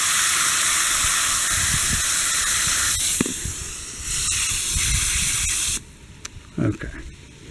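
Water rinses through a carbon inline filter with a loud, steady hiss that drops in level midway and cuts off near the end, leaving brief handling knocks in the quiet.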